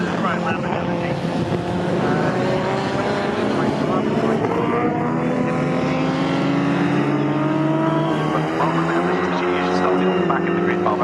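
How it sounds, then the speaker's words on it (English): An Austin Healey 3 litre race car roars over the start-finish line at Snetterton during a CSCC Classic K Series race, its engine a loud, steady drone with a slowly rising pitch, and a commentator's voice may sit under it. "Austin Healey. 3 litre coming over the start-finish line"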